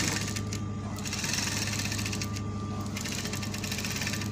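A sewing machine runs a loose stitch on suit jacket sleeve lining, its motor humming and needle rattling in a fast, even rhythm at close range throughout.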